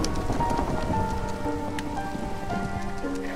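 Steady rain in the Minecraft video game pours down in a continuous, even hiss with soft pattering drops, heard alone at a constant level.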